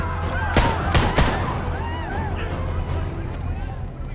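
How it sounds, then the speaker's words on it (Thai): Warning gunshots fire in the video game Marvel's Spider-Man Remastered: a few sharp, loud shots close together, set against voices and game background sound. "ยิงปืนขู่ซะด้วย"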